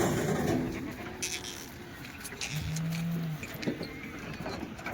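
A water buffalo at a livestock market gives a brief low moo, with another lowing call nearby against a background of market noise, fairly faint.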